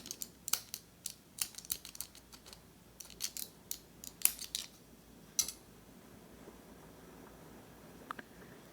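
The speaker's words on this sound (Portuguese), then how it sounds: "Pode cortar o excesso." Scissors snip off excess crochet yarn in a run of quick, crisp clicks close by, coming in irregular bursts that fade to quiet near the end, with no talking.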